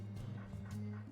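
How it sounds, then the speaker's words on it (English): A dog barks in the video game Two Point Hospital, two or three short, low yips close up with a brief whimpering quality, quiet and alone. "Doggo is barking."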